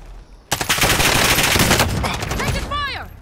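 Automatic gunfire from the video game Warzone bursts in suddenly as a loud, rapid volley lasting several seconds, followed by fading whizzing and ricochet-like sweeps.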